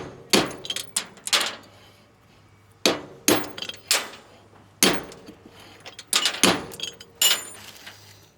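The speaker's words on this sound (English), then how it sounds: "you just bang it with a hammer." Sharp metallic hammer blows knocking out car wheel studs strike in irregular clusters, loud and close, with short pauses between groups of hits.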